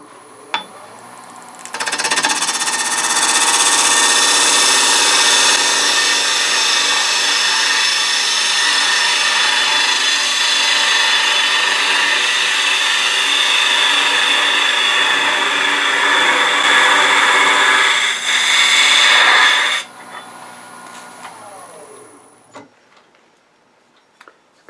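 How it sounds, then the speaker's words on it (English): A woodturning lathe cuts Norfolk Island pine with a loud, continuous, hissing tool scrape lasting about eighteen seconds, beginning and ending with a quieter spinning hum and a few faint clicks. "Cutting very cleanly. I like the way it's cutting."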